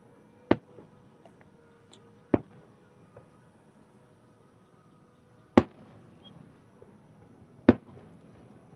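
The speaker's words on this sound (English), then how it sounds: "Maybe we'll catch a little bit of the fireworks from the boat." Distant fireworks seen from a boat: four sharp booms spaced a few seconds apart, with fainter pops between them and quiet open air in the background.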